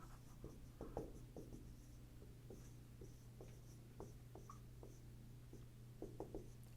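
Chalk or pen is written on a board during a maths lecture on graph theory, making a series of faint, quick scratching strokes in irregular bursts over a low steady hum, with no voice heard.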